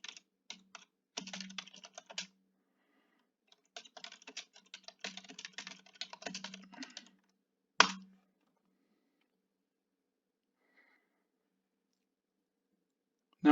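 A commit message is typed on a computer keyboard in VS Code, with quick bursts of close, crisp key clicks separated by pauses and a sharper single key press near the end.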